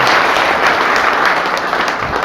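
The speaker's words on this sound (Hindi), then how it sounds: "तो एक बार जोरदार ताली बजाइए" Loud, dense applause from an audience at a business meeting with jewellers, petrol pump owners and trade groups, a continuous roar of many hands clapping close by throughout.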